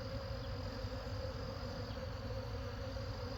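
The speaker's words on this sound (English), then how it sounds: "This hive is just full of bees." A dense, steady drone of many honey bees buzzing close up in a full hive, continuous and even throughout with no voices.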